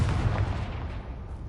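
A Confringo fire spell bursts in Hogwarts Legacy, a loud, close, booming explosion with a heavy low-end blast that rolls off over about a second and a half, no voices.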